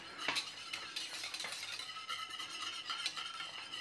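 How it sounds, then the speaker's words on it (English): A spoon stirring homemade pink custard in a pan as it thickens, soft repeated scraping and light clinks against the metal, close and quiet with no talking. "you just stir it till it thickens"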